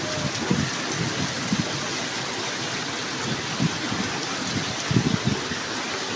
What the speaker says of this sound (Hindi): सावन का महीना और सावन दियाँ बारिशां।